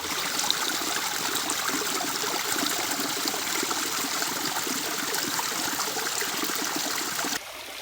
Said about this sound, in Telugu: గుట్ట కింద అంత నీళ్ళన్నీ ఊరి ఇట్లా బయటకు వస్తాయి